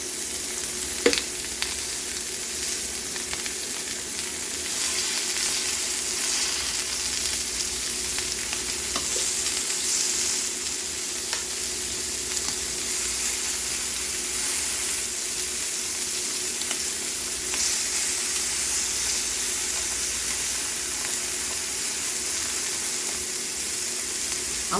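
Pork medallions sear in a very hot pan with a steady, loud sizzle and crackle that runs without a break, broken now and then by faint clicks and spits.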